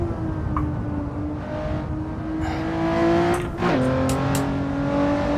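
Simulated race car engine in a racing game, held at high revs and bouncing off the rev limiter, a steady loud buzzing drone with a brief dip and stutter before it climbs back to the limiter.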